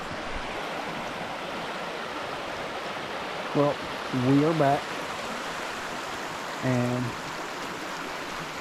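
Creek water rushing around a small rocky outcrop, a steady broadband wash that runs throughout, with a man's brief speech rising over it a few times.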